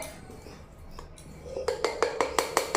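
Metal spoons scoop homemade smoothie powder from containers, starting with quiet handling and then ringing out in a quick run of sharp, close clinks against the dishes.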